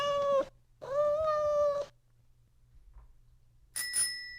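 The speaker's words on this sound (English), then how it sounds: "a bird scooter has a bell" A bird scooter's bell gives a single bright ring near the end, following two clear cat meows earlier in the clip; each sound is close and distinct against a quiet background.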